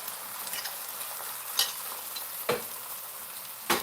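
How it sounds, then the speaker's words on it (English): Beaten eggs for a garden omelet sizzle in a hot pan, a soft, steady hiss broken by three sharp crackling bursts as a utensil stirs and scrapes, close and quiet with no voices. "So the pan is nice and hot. We got a little sizzle going on."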